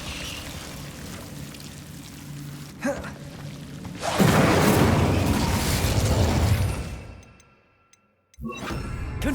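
Incendio fire spell cast in Hogwarts Legacy, a broad roaring whoosh of flame that swells, holds for a few seconds and then dies away to near silence before the game ambience returns.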